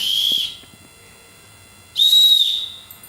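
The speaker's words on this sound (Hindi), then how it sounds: "मुझे सीटी बजानी है आपकी पापा" A child blows a toy whistle indoors, two shrill, steady blasts separated by a short pause, the second longer and louder.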